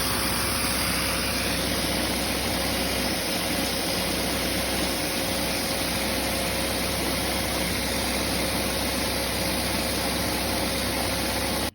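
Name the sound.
Lego vacuum engine running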